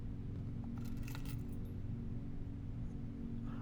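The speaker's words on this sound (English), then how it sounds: "Oh, the car keys." Car keys jangle in the video game Blue Prince, a brief faint metallic jingle over a steady low background hum.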